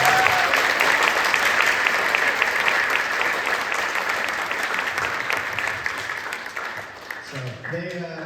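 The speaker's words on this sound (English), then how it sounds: "So can we give all the percussionists one more round of applause?" Sustained audience applause for high school percussionists at a percussion night concert, dense steady clapping from a large crowd that slowly tapers toward the end, where a voice begins speaking.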